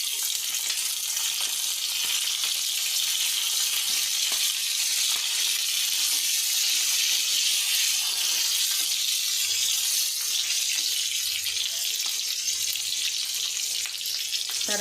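Curry leaves and green chilies frying in hot oil, a steady loud sizzle with crackle running throughout, no voices.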